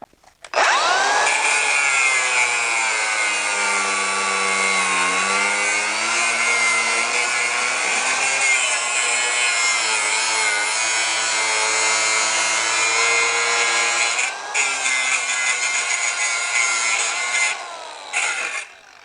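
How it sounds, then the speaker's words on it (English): A grinder runs continuously with a high, steady whine as it cuts off a part of a Tesla Cybertruck-style 12-volt ride-on toy, loud and close, easing down near the end. "So all you do is we just take a grinder and we just grind that right off."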